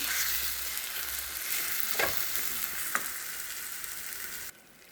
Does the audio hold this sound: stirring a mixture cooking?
yes